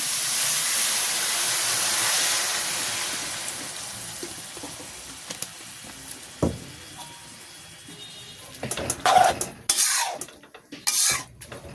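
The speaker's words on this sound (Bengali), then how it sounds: "আমি এখন শাকের জল দিয়ে দিচ্ছি।" Water splashes into leafy greens cooking in a hot pan in a village kitchen, setting off a loud, steady steaming hiss that gradually fades, followed by a few scattered pops and clatters near the end.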